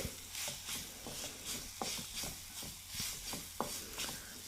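Grated potato mixed with spices and besan, stirred in a pan, giving repeated scraping strokes at a steady rhythm over a soft sizzle, close and fairly quiet with no talking.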